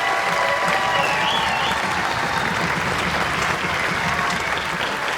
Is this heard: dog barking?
no